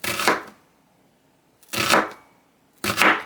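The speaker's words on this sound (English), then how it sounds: "And I just slice this really thin" Three separate slices through a vegetable with a knife on a cutting board, each a crisp, close crunch ending in a knock, spaced over a second apart.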